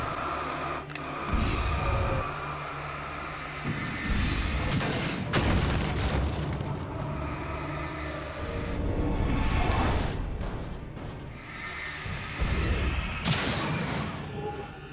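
Flashbang explosions in the video game Alan Wake: several sharp bright bursts spaced through a tense, rumbling game soundscape, loud and close with whooshing tails.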